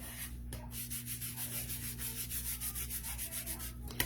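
Wax paste rubbed off a surface with a small applicator, giving a steady, soft, close scrubbing swish in repeated strokes under a constant low hum, with no voices.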